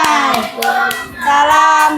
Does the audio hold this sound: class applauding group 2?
yes